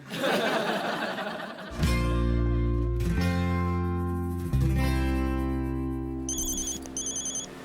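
A telephone rings with a melodic ringtone in loud repeated bursts, sounding several times in close succession, with a brief chuckle near the start and no speech.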